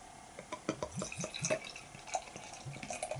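Weird Beard Little Things that Kill beer is poured from a bottle into a glass, with soft glugs, drips and a light trickle, quiet and close.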